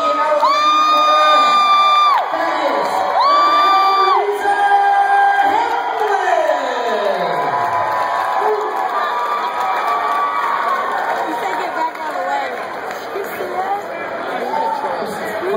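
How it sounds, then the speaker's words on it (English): After a technical knockout at a boxing match, a large crowd cheers, whoops and yells for the winner in a loud, sustained roar, with a long siren-like horn wail early on and a loud announcer voice over the noise. "Let's give William Bogart a big round of applause."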